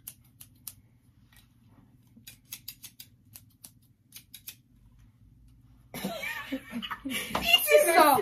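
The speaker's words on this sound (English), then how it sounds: "These are craft scissors." Glittery $7 craft scissors snap shut repeatedly in short, sharp, irregular clicks against a quiet background, then voices and laughter break in loudly and take over.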